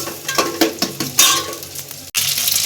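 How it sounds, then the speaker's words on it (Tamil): Ginger garlic paste sautés in oil in a pan, giving a steady close sizzle broken by scraping stirs and a few soft clinks of a utensil against the pan. "லைட்டாக இஞ்சி பூண்டு பேஸ்ட் வதங்கணும்."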